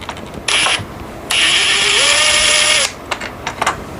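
A powered Torx T9 driver whirs in short bursts while backing a screw out of a Dyson Ball Animal vacuum, with a longer rising whine in the middle, scattered clicks, and no talking.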